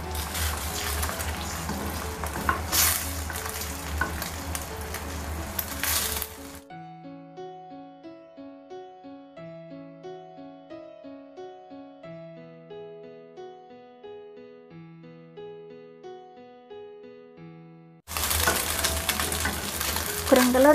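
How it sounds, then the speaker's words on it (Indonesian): Eggs scrambled and fried in a little hot oil sizzle and crackle loudly and steadily. A long stretch of music interrupts, then the frying returns. "Lalu panaskan sedikit minyak dan goreng telur."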